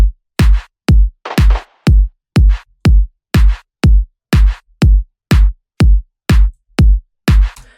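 Reversed clap samples in a progressive house beat: a steady, swinging series of about sixteen loud, sharp swelling hits that build and cut off abruptly, alone with no other instruments.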